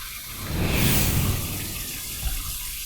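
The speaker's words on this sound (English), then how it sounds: "That's a marvelous, marvelous cold water rinse." Cold water splashes and runs as a face is rinsed after shaving, a close, steady rush of water that swells, then settles into continuous running with a small splash near the end.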